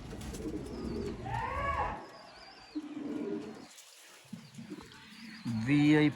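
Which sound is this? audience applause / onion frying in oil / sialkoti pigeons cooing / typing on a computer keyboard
sialkoti pigeons cooing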